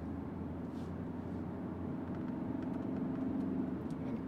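BMW F11 wagon driven gently in Drive on a lap of the Nürburgring, a faint, steady low engine and road hum heard from inside the car, with no talk.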